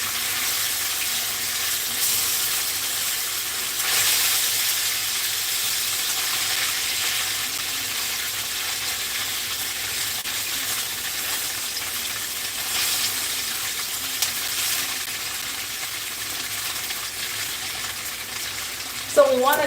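Food frying in a pan on high heat, a steady soft sizzle with faint stirring and scraping throughout, close by with little talk.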